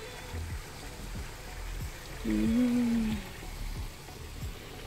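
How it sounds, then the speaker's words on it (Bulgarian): Water runs steadily from a roadside fountain, a soft continuous trickle under low outdoor background noise, with a brief tonal hum rising in the middle. "Покрай пътя на чешмичка."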